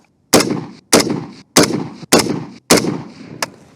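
Five loud, close gunshots from the Orca gun fired as a five-round group during accuracy testing, each a sharp crack with a short ringing tail, spaced roughly evenly about half a second to a second apart.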